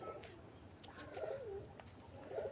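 Pigeons coo softly at night during feeding time, low rolling coos heard a couple of times against a faint, quiet background.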